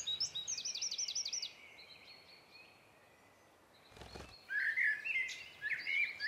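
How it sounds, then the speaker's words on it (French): A Eurasian blackbird sings outdoors, fluid high phrases arriving in separate bursts with a quiet gap and a brief thump in between, fairly faint against soft background noise. "Merle noire."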